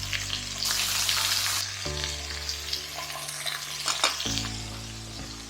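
Onions and garlic sizzle hard in a pan for Korean BBQ, a steady frying hiss under repeated stirring and scraping, with short rising tones from a sliding pan or utensil.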